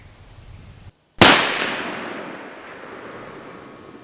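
A single loud .35 Whelen rifle shot cracks out during a deer stag hunt outdoors, after a brief silence, then rolls away in a long fading echo.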